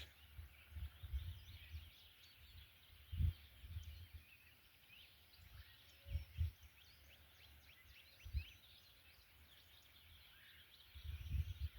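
Wild turkey gobbling far off, several faint bursts spaced through a quiet outdoor scene with steady insect or bird chatter in the background.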